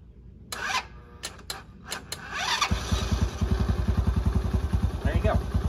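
A four-wheeler ATV engine, run with the choke on, cranks and catches after a few sharp knocks, then settles into a loud, steady, rapid chugging idle close to the microphone.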